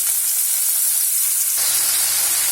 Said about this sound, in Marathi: आता आपण तांदूळ टाकून घेतले, यांना सुद्धा 4 ते 5 मिनिटं छान परतून घ्यायचं आहे।